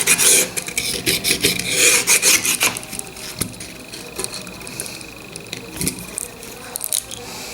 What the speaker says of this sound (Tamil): எப்பொழுதுமே இந்த காடியில் இருக்கிற பேஸ்ட்டை க்ளீன் பண்ணும்போது ரொம்ப அழுத்திடக்கூடாது